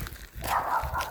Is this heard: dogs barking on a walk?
yes